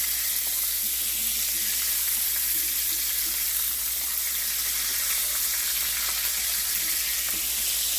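Shrimp and spinach stir-fry in a hot pan, giving a steady, close, loud sizzle with faint scraping and tossing and no voices.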